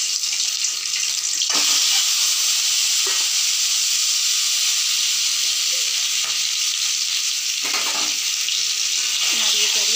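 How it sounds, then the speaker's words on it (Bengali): Hard-boiled eggs fry in a hot pan with chopped garlic and onion, a steady loud sizzle running throughout, broken by a few soft clinks and stirring scrapes. "এবার দিয়ে দেব সিদ্ধ করে রাখা ডিম। ভাজতে ডিমগুলো একটু ভাজা ভাজা হবে।"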